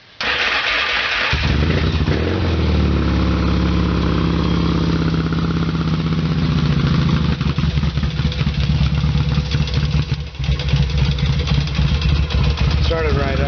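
A motorcycle engine cranks with the starter button, catches quickly and settles into a loud, steady idle throughout.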